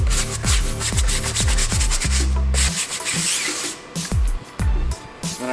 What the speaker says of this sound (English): using a soft bristle nylon brush, I simply agitate it